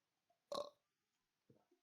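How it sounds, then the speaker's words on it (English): A single loud burp bursts out in a quiet room, followed by a brief murmur of voices. "Somebody burped."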